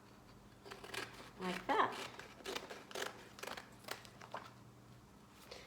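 Scissors snipping through A1 transfer sheets for a flower pot project, a series of close, quiet crisp cuts with faint paper crinkling, and a voice speaks briefly.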